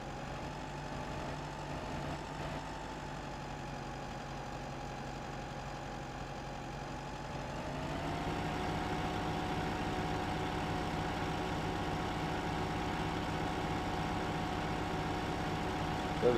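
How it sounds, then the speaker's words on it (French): A farm tractor engine runs steadily during a field harvest, a continuous idling drone with a low hum that rises slightly in pitch and loudness midway, then holds even, with no talking. "nous allons reprendre le tracteur."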